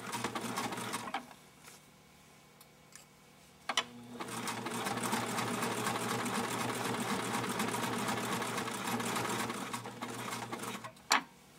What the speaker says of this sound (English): then we're going to sew the shoe on. You're going to go very slowly here.